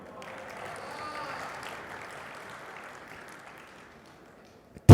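Applause from a seated audience at a Hindi poetry recital, a steady soft patter of clapping that fades over a few seconds, followed by a brief loud knock.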